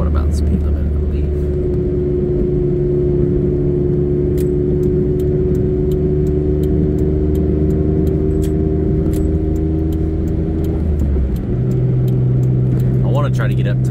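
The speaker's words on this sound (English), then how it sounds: "I want to try to get up to sort of a freeway speed to show y'all what the noise level is like" Inside a 1995 Honda Today kei car on the road, the small engine drones loudly and steadily under road noise. Its pitch drops with a gear shift near the end, and light rattles tick throughout.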